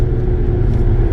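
A twin-turbo BMW 335i at full throttle gives a loud, steady, close engine roar and rumble, with no talk over it.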